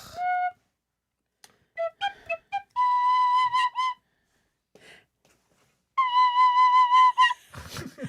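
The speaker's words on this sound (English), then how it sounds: "An annoying penny whistle." A penny whistle is blown at home in short bursts: a few quick squeaky notes, then two longer sustained trills with a pause between, close and fairly loud against silence.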